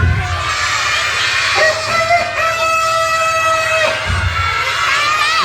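A rooster crows a long, held, strained call, loud and near, over a noisy background of children's voices.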